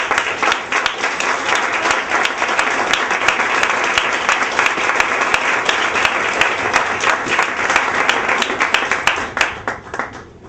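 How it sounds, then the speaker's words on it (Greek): An audience at a live stage show applauds steadily for about ten seconds, with dense clapping that stays loud throughout and thins slightly at the end. "Ένα χειροκρότημα λοιπόν για το θείασό μας."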